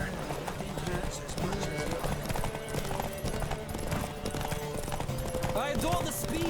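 Rapid clip-clop of a horse galloping in a race in The Witcher 3, steady hoofbeats running throughout under game music and talking voices, with a brief whinny.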